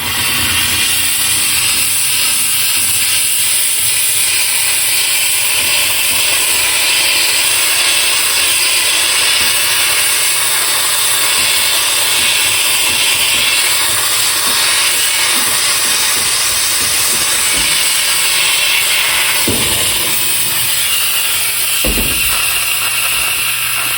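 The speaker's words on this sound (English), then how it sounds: "let's see the steamer one last time on this corner and see what it can do" A handheld steam cleaner blasts a corner with a loud, continuous hiss of steam lasting the whole stretch, with a few brief knocks near the end.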